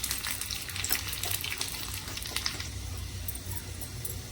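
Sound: whole garlic cloves frying in oil

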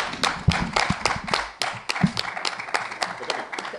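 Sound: audience applause

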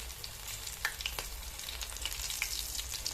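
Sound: batter-dipped chillies (mirchi bajji) frying in oil

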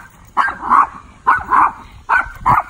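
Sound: Maltese dog barking

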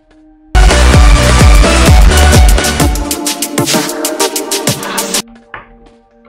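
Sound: audio track with fade in and fade out, Corel VideoStudio

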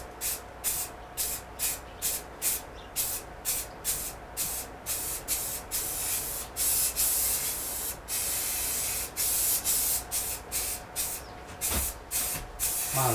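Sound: spray painting a carved sign

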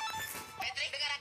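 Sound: telephone ringing

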